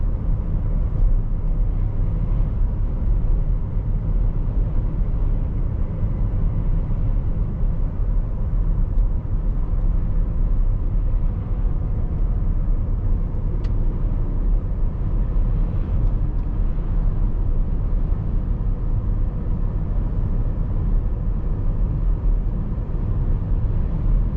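Inside a 2025 Cadillac Escalade IQ electric SUV on the move, a steady low road and wind rumble holds constant throughout, with no engine note and no talking.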